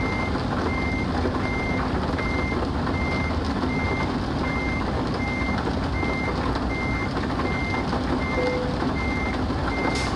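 Reversing alarm on a truck in Euro Truck Simulator 2, steady evenly spaced beeps repeating over a constant loud engine rumble, with no talking.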